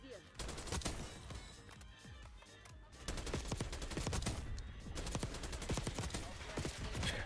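Loud, rapid bursts of automatic AK-74 rifle fire in the shooter game Black Ops 6, with sharp repeated cracks that keep up almost without pause over the whole stretch.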